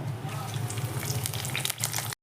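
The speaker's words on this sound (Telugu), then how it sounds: "కరివేపాకు వేసి పోపు పెట్టుకోవాలి" Mustard seeds, chana dal and curry leaves crackle and sizzle steadily in about three tablespoons of hot oil in a kadai, a close, dense frying hiss with no talk.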